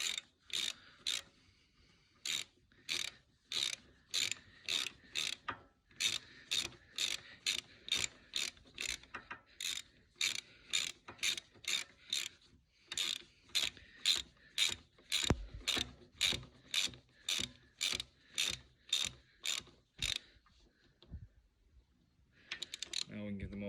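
A ratchet clicks rapidly and evenly in long runs of sharp strokes as bolts are tightened on a verge trimmer, close and crisp with short pauses between runs.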